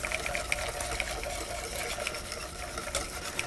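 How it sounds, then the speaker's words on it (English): Egg yolk mixture being whisked into hot milk for a pastry cream filling, a steady wet sloshing churn with rapid light clinks of the whisk against the bowl, continuous and fairly close. "whisking constantly, I'm going to whisk my yolk mixture into my milk"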